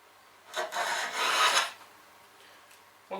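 A hand plane is pushed along a wooden board in one long rasping stroke, loud and close, followed by a quieter pause and the start of another pass.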